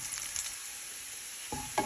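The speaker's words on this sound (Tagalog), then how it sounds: "hintay lang natin na magkonting brown yung ating pong bawang, kaibigan" Garlic fries in a pan with a continuous faint hiss and crackle, close by, broken near the end by a couple of brief utensil scrapes.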